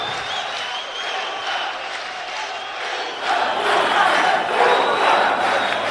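Crowd at a live MMA fight night in Grozny roars steadily, with shouting and cheering that swells noticeably louder partway through and stays loud.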